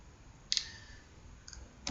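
A few sharp computer keyboard clicks as a number is typed and entered, close and quiet, spaced apart with faint room noise between.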